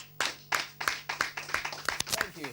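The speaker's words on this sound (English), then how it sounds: "Round of applause for them, please." A small audience gives competition contestants a quiet, sparse round of applause, with separate claps spaced a fraction of a second apart and faint voices underneath.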